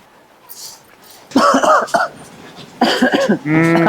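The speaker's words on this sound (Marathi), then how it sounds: "लयच खोकतो रे" A person coughs in two harsh bursts close to the microphone, the second ending in a strained, throaty sound.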